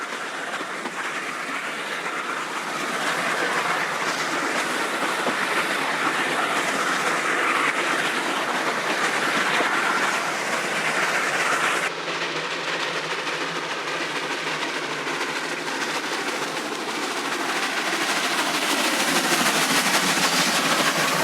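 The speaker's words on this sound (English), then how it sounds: "At Riverside Crossing Point, a diesel freight accelerates away towards Franklin." A diesel freight train accelerates away past a crossing on the Cape Natal line in South Africa, a loud steady rumble of engine and rolling wagons with wheel clatter that shifts partway through, sustained and close with no voices.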